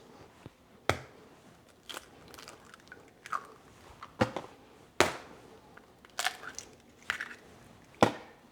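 Eggs cracked on a kitchen counter while making a breakfast burrito, giving a string of sharp, brief cracks and taps spaced about a second apart, close and fairly quiet with no talking.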